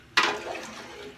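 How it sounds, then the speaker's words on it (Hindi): Water is poured in one sudden rush into a large chicken biryani cooking pot outdoors in a village, a splashing gush that quickly settles into a softer fading wash. "हमने पानी ना ऐड कर दिया इसमें"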